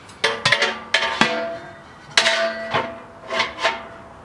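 A metal ash grate from a Camp Chef Alpine wood stove clanks and rings as it is handled, giving several sharp metallic knocks in uneven pairs and singles, close and loud with short ringing tails.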